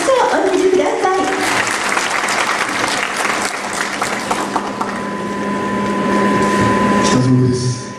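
Audience applause at a live guitar performance in Minamata, loud sustained clapping from a close crowd, fading near the end.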